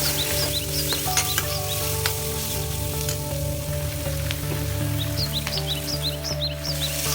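Onions fry with turmeric, coriander and cumin powder for a fish curry, giving a steady close sizzle with light stirring. Birds chirp faintly in the background.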